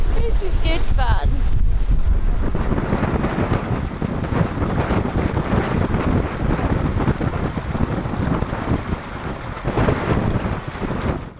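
Strong wind of 20 knots or more buffets a sailboat during a yacht race, a loud, constant roar of gusts against the microphone mixed with rushing water along the hull.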